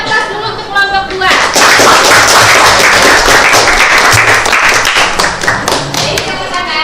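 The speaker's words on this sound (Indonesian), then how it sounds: "Kita beri aplaus dulu untuk kelompok 2." A classroom of students breaks into loud, sustained clapping for a presenting group, the dense applause filling the room for several seconds after a brief pause.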